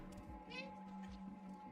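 A kitten's meow in the video game Stray, short and faint over low game ambience and music, with a hint of talk behind it.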